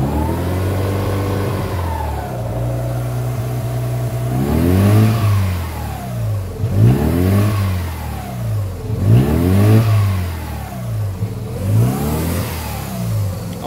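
A naturally aspirated Mazda RX7 FC rotary engine runs close by, rising and falling in a series of four or five rhythmic revs over a steady idle, with no talk.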